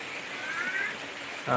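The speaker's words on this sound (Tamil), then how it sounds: "ஆலாங்கட்டி ஐஸ் கட்டியே பெய்யுது" Heavy rain mixed with falling hailstones pours down as a steady, close, hissing roar, with a brief louder burst near the end.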